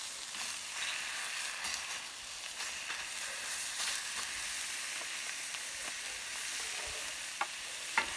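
Lobster halves sear flesh side down on a rolled steel plancha, giving a continuous bright sizzle with scattered crackles and faint spatter, close and steady without talk.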